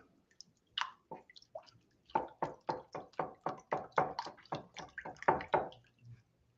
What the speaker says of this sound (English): I think I need to whisk it though